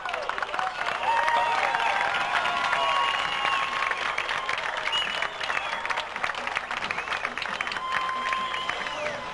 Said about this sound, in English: Did you get the reason for the applause there?